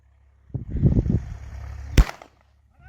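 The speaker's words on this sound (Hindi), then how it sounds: "देखिए मेरे ऊपर गोलियों पे गोलियां बरसाई जा रही हैं।" Gunshots ring out, a rapid cluster of loud popping bursts followed by one sharp, heavier crack, then quiet.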